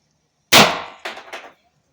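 A single sharp, loud report from a converted Gen 1 to Gen 2 Pistelle X68 air pistol, followed by a couple of quick metallic clacks from the mechanism.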